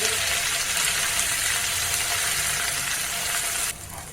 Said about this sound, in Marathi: मसाला आपण तयार करून घेतलेला आहे तो ह्या तेलामध्ये टाकायचा आणि भाजून घ्यायचं